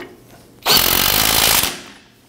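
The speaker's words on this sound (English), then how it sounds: "On the new outer tie rod on here, we're gonna use an 18 millimeter to go ahead and snug this nut down." A power impact tool snugs the nut on a new outer tie rod end of a 1997-2006 Jeep Wrangler with an 18 mm socket, one loud close rattling burst of about a second that then tails off.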